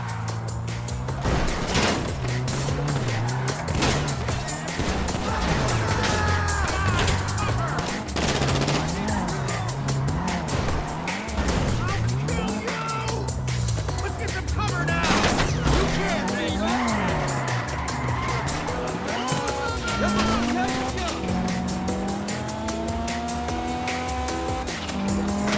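Car driving in the game GTA Online, engine revving with wavering pitch, tire squeals and bursts of gunfire over a busy mix, steady and loud with game voices talking over it.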